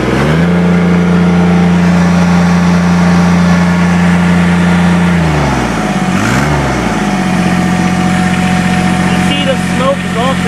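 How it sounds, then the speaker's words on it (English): A diesel engine runs loud and steady at a constant pitch, then is revved up briefly with a rise and fall in pitch before settling back to a steady drone. Faint voices can be heard under it. "let's rev this thing up and hear how many RPMs you can get"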